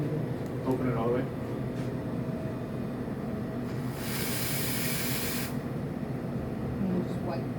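An espresso machine steam wand purges open all the way, giving a loud, steady hiss of about a second and a half over background café noise, with people talking nearby.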